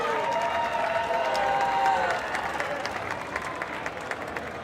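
A crowd at a Mile Zero Fights event in Key West, during Conch Republic Days, applauds and cheers the two fighters. The dense clapping holds steady throughout, with a voice ringing over it.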